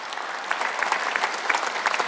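A church congregation applauds during a Sunday worship service, steady close clapping from many hands with occasional louder individual claps standing out, continuous throughout.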